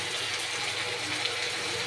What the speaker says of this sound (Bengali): আর একটু হালকা জল ব্যবহার করবো।